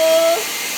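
A hair dryer blows steadily on a freshly bathed dog, a close, even, hissing rush of air with a brief thin whine at the start.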